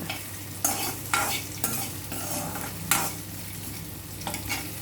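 Sesame seeds and roasted peanuts frying in a pan: a soft continuous sizzle under several distinct stirring scrapes and taps, close but fairly quiet.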